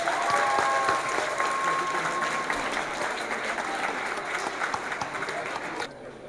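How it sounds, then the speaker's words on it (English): Steady, enthusiastic applause from a crowd fills the whole clip, dense and continuous, tapering slightly toward the end. "Let's give them all a round of applause."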